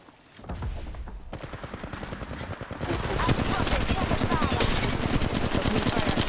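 Sustained automatic gunfire rattles through an Apex Legends Mobile match as Wraith, steady rapid shots that grow denser and louder midway, with layered weapon fire and booms throughout.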